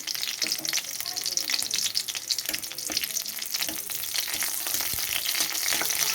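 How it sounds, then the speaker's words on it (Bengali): Garlic and green chili frying in hot oil crackle and sizzle loudly and continuously, with dense spitting pops close by throughout and no speech. "রসুনটা একটু লাল করে ভেজে নিয়ে তারপর আমি এই সজনের শাকটা দিয়ে দেবো।"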